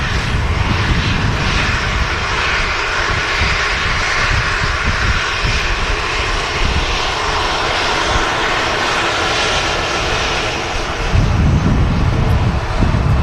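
A Boeing 757 jet at Manchester Airport gives a loud, continuous broadband roar of engines, steady throughout with wind buffeting on the microphone and a slight rise near the end.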